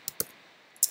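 A computer keyboard clicks a few crisp, isolated keystrokes while someone writes Java code, close and fairly quiet against a soft hum.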